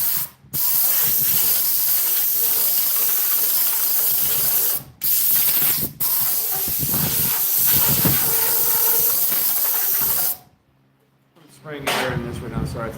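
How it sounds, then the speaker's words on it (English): A compressed-air nozzle blasts air into a homemade flute, giving a loud, steady broadband hiss that cuts out briefly a few times and stops near the end before short bursts resume. "Spraying air in this right now, sorry it's loud."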